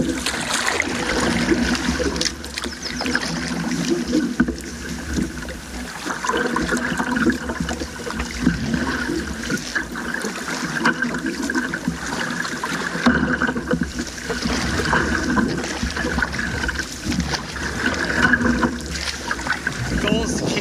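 Canoe paddling and steering on a lake in Algonquin Park, with water splashing and dripping close by in repeated strokes while a person talks over it and wind hisses in the background.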